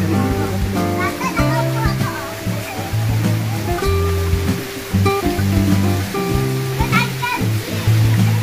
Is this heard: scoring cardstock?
no